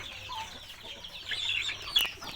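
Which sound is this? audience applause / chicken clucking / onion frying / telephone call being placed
chicken clucking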